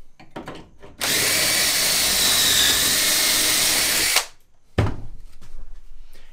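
Loud, sustained power-drill whirr as a pocket hole is bored into wood for a router planing sled, running about three seconds, then a short pause and a thunk-like restart with a softer motor burst.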